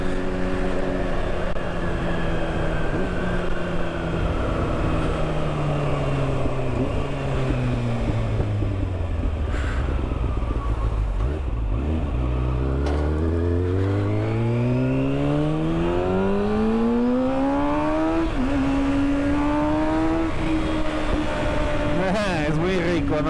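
A motorcycle rides through the night, its engine rising and falling through repeated rev sweeps and gear changes, loud and close throughout with steady wind noise.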